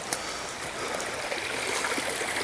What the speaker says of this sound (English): here's the little creek behind my house